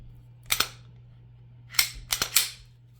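Glock 22 Gen 3 pistol chambered in .40 Smith & Wesson being handled, giving a few sharp mechanical clicks and clacks: one pair near the start, then a quicker cluster of metallic snaps, close and crisp against a quiet room.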